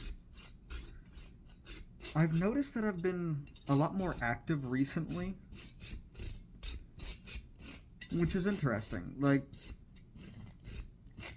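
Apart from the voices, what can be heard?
working metal by hand to reshape a walking stick handle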